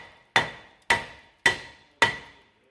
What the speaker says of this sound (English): And then hit the disc.